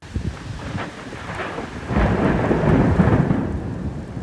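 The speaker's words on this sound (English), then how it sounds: "We can't mention lightning without mentioning thunder." Thunder rolls through a thunderstorm with steady rain, a deep rumble that swells after two seconds and stays loud over the continuous hiss of rainfall.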